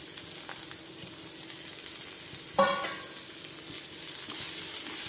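Onions (sabola) sautéing in a pan while masala bonda filling is cooked, a steady low sizzle with a brief louder burst of stirring midway, close and alone.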